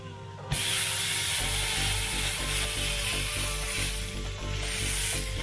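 A sea bass fillet pressed into a hot pan starts sizzling loudly after a brief quiet moment, and a steady dense frying hiss continues throughout with faint scraping ticks and no voices.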